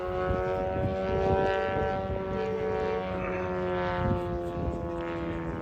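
A 52% scale Skip Model Designs Ultimates model aerobatic biplane flies normal circuits at a model aircraft meet, its propeller engine droning steadily and loud throughout, with a strong harmonic whine rising and falling slightly as it passes.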